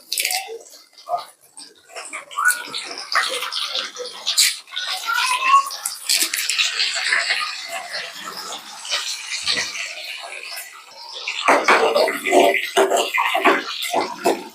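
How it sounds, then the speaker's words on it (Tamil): Small shallots dropped into hot oil with popped mustard seeds for a mixed vegetable curry, sizzling and crackling in irregular bursts that flare louder near the end, close and fairly loud. "கடுகு பொரிஞ்சவுடன் கருவேப்பிலைக்கு முன்னாடி இந்த சின்ன வெங்காயத்தை போட்டுக்கலாம்"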